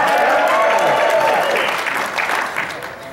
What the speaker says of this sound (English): I just wanted the great applause, thanks.